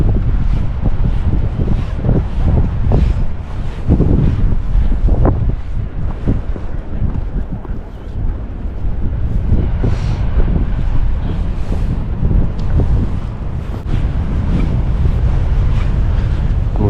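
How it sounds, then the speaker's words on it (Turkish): Powerful ocean waves crash and roll onto a black sand beach in Iceland, a continuous loud roar of surf heavily buffeted by wind noise on the microphone, with no talking. "dalgalar inanılmaz güçlü duruyor"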